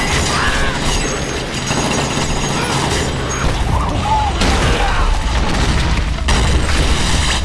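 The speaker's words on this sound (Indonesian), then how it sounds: "Namun Shikishima berhasil lolos dari ledakan tersebut" Explosion scene from the Attack on Titan live-action film, a sustained loud roar of booms, bursts and rattling debris filling the whole stretch with no pause.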